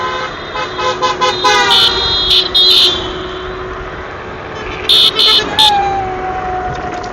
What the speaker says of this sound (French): Ah, ça klaxonne en centre-ville.